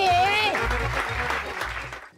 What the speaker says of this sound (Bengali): আমাদের পরবর্তী দৃশ্য হাততালি।